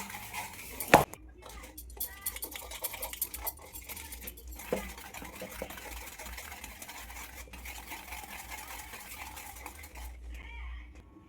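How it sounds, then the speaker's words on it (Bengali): Spoon working through Christmas dry fruit cake batter in a bowl, scraping and clinking against the sides in irregular strokes, with one sharp knock early on, close and moderately loud with faint background noise. "আমি মিশিয়ে নিচ্ছি"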